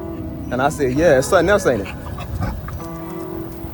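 A dog pants and gives high whimpering whines in a short burst close by, mixed in with someone talking over it.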